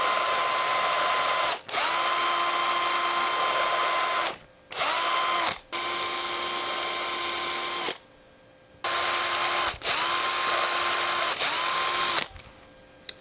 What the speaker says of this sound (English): All right, we've got those holes drilled.